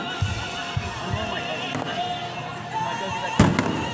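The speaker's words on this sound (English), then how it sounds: "Fireworks are not so scary for me anymore." Fireworks burst over a beach show, a dense crackling wash with one sharp loud bang near the end, heard from a distance over crowd noise and faint music.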